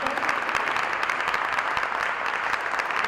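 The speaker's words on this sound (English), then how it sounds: "Please, would you join me in applauding them for their contribution?" Audience at a CGI Latin America impact investing panel applauding the speakers, a dense, steady wash of clapping filling the whole stretch at even loudness.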